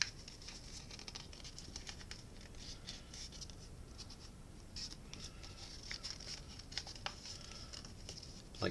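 Paper being folded and flattened for an origami dinosaur, soft close crinkles, rustles and scratchy creasing sounds in a continuous quiet patter.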